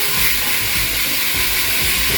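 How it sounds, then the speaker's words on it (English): Beef mince for a lasagne ragu sizzles steadily in a hot pan, a constant crackling hiss close by, with no voices. "You hear all that sizzle?"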